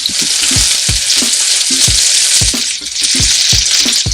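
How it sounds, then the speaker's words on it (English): Steaks sear loudly in a hot non-stick pan, a steady close sizzle and crackle running throughout with faint regular knocking underneath. "leave these sit, and that steak will sear to that non-stick pan."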